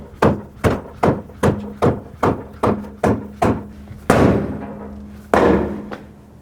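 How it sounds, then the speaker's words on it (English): A rubber mallet strikes the back of a car tire on a 2005-2009 Chevy Equinox during tie rod work, about ten evenly spaced close thuds with a couple of heavier ringing blows near the end, no talking. "use a rubber mallet and tap it from the backside, but always hit the tire, not the rim"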